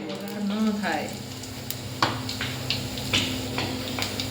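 Ginger-chili paste frying in a mix of oil and ghee for pav bhaji, a steady close sizzle with occasional stirring clinks, while someone speaks over it throughout.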